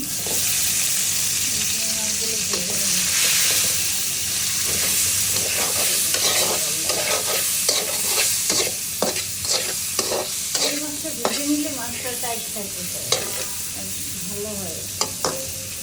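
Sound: prawns frying in a little oil

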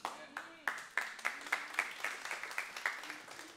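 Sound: congregation applauding

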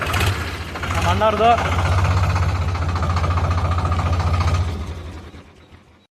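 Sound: Sonalika tractor engine idling

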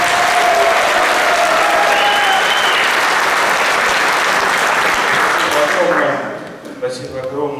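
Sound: applause for the head coach

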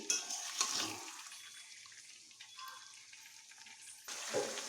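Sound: chicken being fried and stirred in a pan

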